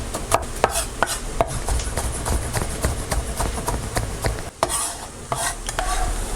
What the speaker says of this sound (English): And now I chop it up very finely.